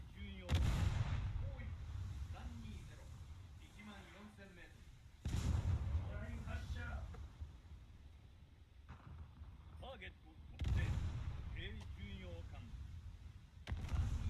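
In the naval battles of War Thunder, a ship's guns boom in heavy, rumbling salvos about every five seconds, with lighter shots and faint talk between them.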